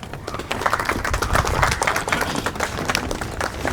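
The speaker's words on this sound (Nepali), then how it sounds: "फेरि एकचोटि ताली बजाइदिनु होला उहाँको लागि" Audience applause follows a poetry recital at a literature and culture trust's annual general meeting: dense, steady clapping from a crowd that holds through the whole stretch without fading.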